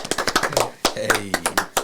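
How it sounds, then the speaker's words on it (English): A few podcast hosts give themselves a short round of applause, with brief scattered claps mixed with speech and laughter close by in a studio. "round of applause for ourselves"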